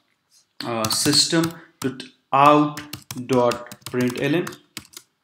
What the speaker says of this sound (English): I'll just type